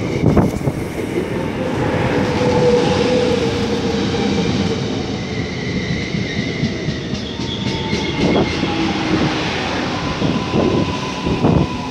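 A Gyeongui–Jungang Line train rumbles loudly into Baengma Station, with a continuous roar, rhythmic wheel clatter and screeching brake squeals building as it arrives.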